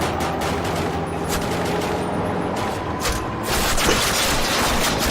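Dense, rapid gunfire from the Call of Duty video game crackles continuously at high volume, with overlapping shots and occasional heavier bursts.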